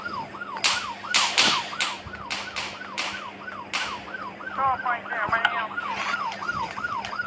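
A police car siren in the Dude Theft Wars video game wails in a steady, repeating up-and-down pattern throughout, loud and close, with sharp taps and clicks scattered over it.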